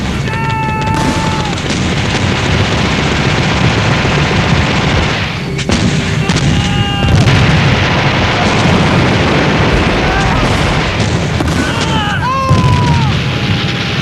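Artillery barrage from a WW1 battle near Neuville-Vitasse in France, with loud continuous booms and gunfire roaring throughout and a few faint whistling tones over the din.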